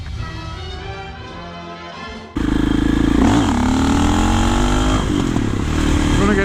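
A supermoto motorcycle engine revs hard while being ridden on loose ground, starting as a steady mid-level drone and jumping abruptly to a loud, close, rising and falling roar that holds to the end.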